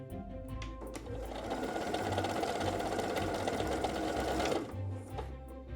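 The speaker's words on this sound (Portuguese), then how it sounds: "E agora eu vou costurar no tecido para vocês visualizarem ali o ajuste da máquina." A Pfaff Creative Ambition 640 sewing machine stitching a straight seam on fabric, with a steady close whirring run of about four seconds between brief clicks at the start and end.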